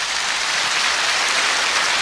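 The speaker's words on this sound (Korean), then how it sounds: "국민 가수라고 생각하시는 분들 기립박수 부탁합니다" A studio audience at a trot music show rises in a standing ovation, dense continuous applause rushing evenly like heavy rain, loud and sustained throughout with no voices on top.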